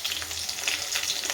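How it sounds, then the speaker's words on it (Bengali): Green chillies being tempered in hot oil along with garlic crackle in a bright, continuous sizzle, close and moderately loud, with no voices. "কটা কাঁচা লঙ্কাও ফোড়ন দিলাম"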